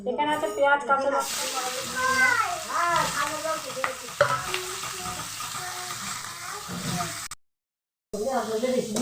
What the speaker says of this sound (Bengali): মাছগুলো সব ভাজা হয়ে গেছে এবার মাছটাকে আমি রান্না করব